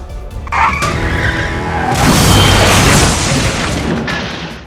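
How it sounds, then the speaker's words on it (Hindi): A truck and a car collide on a highway near Coimbatore: a short tire skid gives way to a loud crashing impact and a sustained roar of grinding, scattering debris, then fades out. No one speaks. "ट्रक और कार की टक्कर इतनी भीषण थी कि कार के परखच्चे उड़ गए।"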